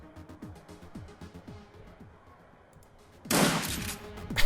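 Video game gunfire in Shadowrun: Dragonfall comes as a quick series of regular shots, followed by a loud, dense burst of fire near the end. No speech is heard.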